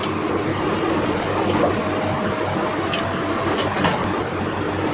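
Steady, close mechanical whirring of a sewing machine stitching fabric for a pajami suit and lehenga outfit, a continuous dense rattle with no pauses and no talking.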